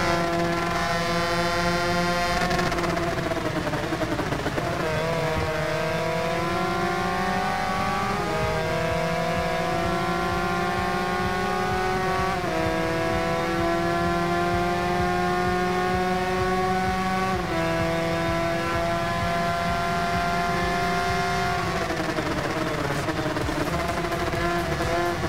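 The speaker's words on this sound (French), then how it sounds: "je vais vous laisser profiter un petit peu du son des motos" Motorcycle engines in the Ride 2 racing game on the Vallelunga track: a loud, continuous high-pitched whine that climbs steadily with each gear, drops sharply on every shift and repeats through the run, with no talking.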